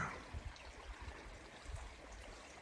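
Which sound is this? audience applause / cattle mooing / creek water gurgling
creek water gurgling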